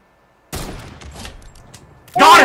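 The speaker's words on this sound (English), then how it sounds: "Are you shooting at him?" Gunfire from a multiplayer shooter match: a broadband burst of shots starts at the half-second mark and keeps crackling, then a louder, sharper volley of shots comes near the end.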